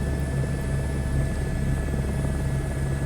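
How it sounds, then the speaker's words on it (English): A helicopter in Microsoft Flight Simulator 2024 on a tour over Paris gives a steady, loud rotor and engine drone with a low thumping beat, continuous throughout and without talk. "That's kind of like a must when you're giving a helicopter tour of Paris in a simulator."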